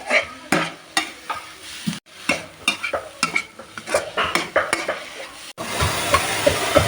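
Shrimp stir-frying with black pepper in a pan, with repeated scraping stir strokes and a steady sizzle that swells louder and continuous near the end; no talking.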